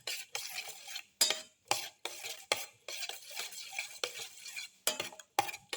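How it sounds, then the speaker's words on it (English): Omelette mixture with shallots and fenugreek leaves being stirred and crushed in a bowl, repeated scraping and clinking strokes in a quick, uneven rhythm, close and fairly quiet. "Thoroughly mix and crush all the ingredients together."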